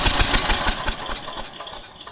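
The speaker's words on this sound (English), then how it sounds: "you need to try to crank it for about 3 seconds" A car engine cranking during a no-start spark test, a loud rapid rhythmic churning of the starter that fades slightly over two seconds without catching.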